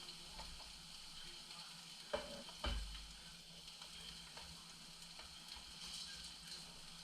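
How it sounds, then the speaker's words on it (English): Hot oil frying in a pan on a stovetop eye for loaded mac and cheese and smothered chicken, a steady faint sizzle with scattered pops and a couple of louder clatters of stirring. "I'm going to turn that oil down some so it can stop popping."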